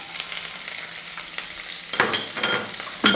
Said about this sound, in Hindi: सभी को हम 2 से 3 मिनट तक के लिए भून लेते हैं